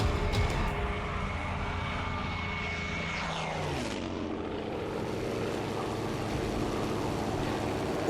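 An Embraer Super Tucano military turboprop aircraft passes with a loud, continuous engine drone whose pitch drops as it goes by, then settles into a steady roar.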